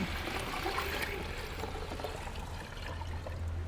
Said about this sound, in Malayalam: എന്നിട്ട് അത് നിറച്ച് വെള്ളം അങ്ങ് ഒഴിക്കാം